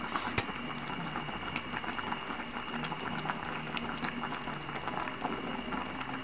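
Covered pot of sinigang with tilapia at a steady boil, a continuous soft bubbling and rattling with small ticks, fairly quiet and constant throughout.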